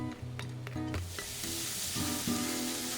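Minced garlic frying in three spoons of cooking oil in a pan over low heat, a steady close sizzle that swells after a few clicks and knocks at the start, with no talking.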